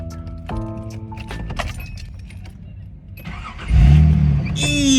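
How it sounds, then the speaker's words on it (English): Keys jangle, then a Nissan Z's starter cranks briefly before the engine catches and settles into a loud, close rumble, with a revving rise at the end. "Let me see if the Z wants to start."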